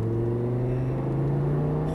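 An Audi R8 V10 pulls hard on a race circuit, its engine a loud, close, sustained drone with a strong low tone that rises steadily in pitch as it accelerates, with no talking.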